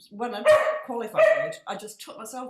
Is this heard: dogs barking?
yes